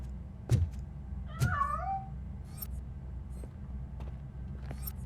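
Cat in the RoboCop Rogue City video game, giving one wavering meow close by amid quiet ambience, with a few faint clicks and taps around it.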